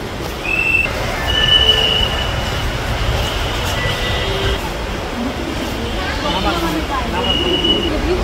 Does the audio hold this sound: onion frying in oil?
no